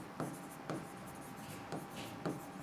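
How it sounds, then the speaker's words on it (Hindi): A teacher writes on a classroom board during a computer lesson, with four short scratchy strokes spaced evenly apart, close and fairly quiet, with no talking over them. "तो यहाँ लिख देते हैं हम"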